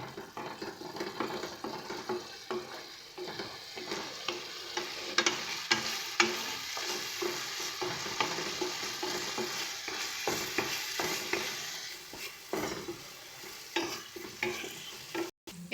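Spice masala for a duck-egg dak bungalow curry is stirred as it fries in a pan, giving a steady close sizzle with continuous scraping and clattering strokes throughout, and no talking.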